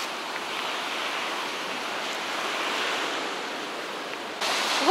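Sea waves wash in a continuous, even roar near a pier at a Bulgarian beach resort around St. Vlas and Elenite, with no voices.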